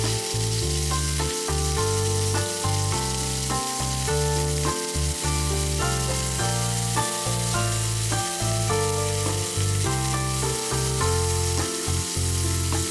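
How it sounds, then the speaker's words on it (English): Beef slices stir-frying in a greased pan give a loud, continuous sizzle that stays close and steady the whole time, with soft background music underneath. "Add the beef and stir-fry."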